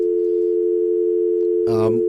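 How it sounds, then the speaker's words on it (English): A steady telephone dial tone hums continuously, then a brief voice cuts in near the end. "He got that dial tone off the show."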